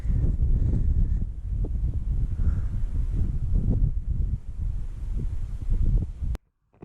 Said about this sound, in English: But just wish it wasn't so windy